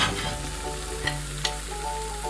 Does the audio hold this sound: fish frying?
yes